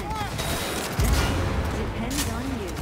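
Gunfire in the video game Cyberpunk 2077 during a fight at a corporate summit, a sharp shot cracking over continuous busy game noise and music.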